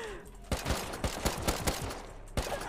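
Video game gunfire, a string of sharp, loud shots in an uneven rhythm: a burst of several quick cracks, then a pause before one last shot, over a low background rumble.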